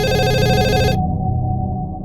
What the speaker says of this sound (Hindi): और ये फोन कब से बज रहा है?